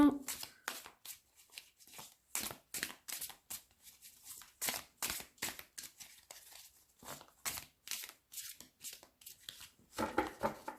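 Tarot cards shuffled by hand in a series of quick, close riffling bursts with brief pauses between them, repeating steadily throughout with no talk over them.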